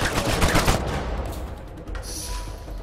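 Rapid automatic gunfire in an Uncharted 4 multiplayer match, a loud burst of repeated shots in the first second that tails off into fainter echoes and background game noise.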